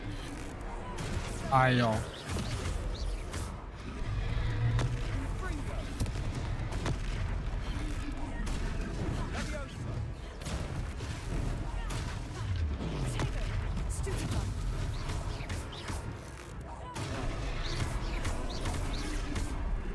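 Confringo blasting spells go off in a Harry Potter video game, a dense stream of sharp blasts and crackling impacts over a low rumble, with a voice speaking over the noise.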